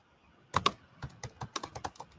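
Someone typing a name on a computer keyboard: after a brief quiet pause, a close, fairly soft run of quick keystrokes clicks in an uneven rhythm.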